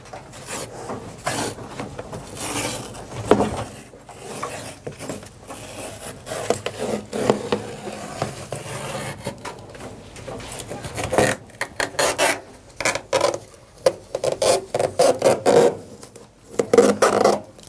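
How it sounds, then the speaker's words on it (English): An old felt seal is pulled and peeled off a tumble dryer panel, giving close, irregular rasping and scraping rubs that come in bursts and grow louder toward the end. "we now just need to take the old seal off"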